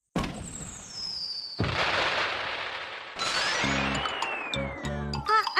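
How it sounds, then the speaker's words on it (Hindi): Cartoon fireworks launch with rising whistles and burst in loud, crackling explosions, followed by descending whistling tones and short sparkling pops near the end. "मैंने कहा था ना कि सुंदर आतिशबाजी दिखाई देगी।"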